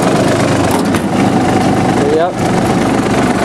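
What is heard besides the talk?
John Deere F1145 diesel mower's Yanmar engine running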